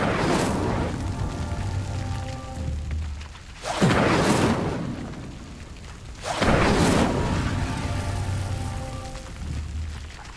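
An Incendio fire spell cast in Hogwarts Legacy gives three loud, booming whooshes spaced a few seconds apart. Each bursts sharply, then rolls off into a rumbling, crackling fade.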